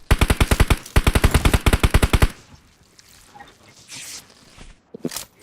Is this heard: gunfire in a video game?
yes